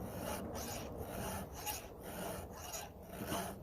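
A round file is drawn by hand across the teeth of a chainsaw chain on an Echo CS-590 Timber Wolf, a quick, regular series of rasping strokes, close and fairly faint, with no talking.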